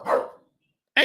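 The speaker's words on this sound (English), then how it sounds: "so my dog's barking" A pet dog barks indoors, one clear bark followed by silence and the start of another bark, loud and close, with no voices.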